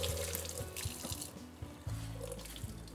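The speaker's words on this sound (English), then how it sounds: "microfiber pads are good, and this sink is your full mop bucket. Rinse the thing like that." Running tap water pours steadily into a sink as a dirty microfiber mop pad is rinsed out, with splashing and sloshing shifts as the pad is worked under the stream, close and continuous.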